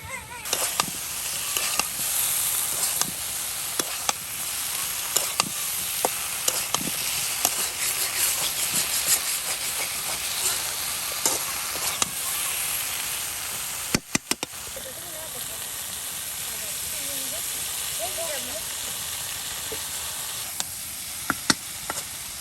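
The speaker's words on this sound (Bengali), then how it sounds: "বেগুন ভাজি। দেখুন কত বেগুন একসাথে দিয়ে দেওয়া হলো।" Many eggplant slices fry together in oil for a village iftar spread, a constant dense sizzle and hiss with occasional sharp clicks, close and steady throughout.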